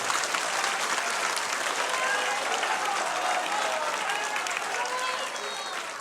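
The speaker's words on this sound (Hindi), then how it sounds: "जरा जोरदार तालियां हम सब बजाएंगे" An audience at a political party gathering gives sustained, full applause, a dense, even wash of many hands clapping for several seconds without a break.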